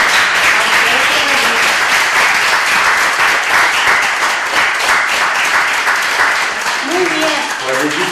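A Spanish audience applauds at the close of a quality-of-life talk, with sustained, loud crowd clapping throughout and faint voices murmuring near the end.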